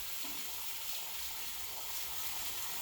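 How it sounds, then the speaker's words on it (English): Tap water runs steadily into a kitchen sink being filled about halfway for washing vegetables, a soft, even hiss and splash with no talk. "we're going to fill up about half a sink full of water"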